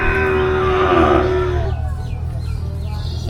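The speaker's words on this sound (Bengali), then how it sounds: "সব তো দেশি গরু।" Local desi cattle in a herd on a remote river island char in Bangladesh give a drawn-out low moo that fades after about a second and a half, then outdoor murmur continues.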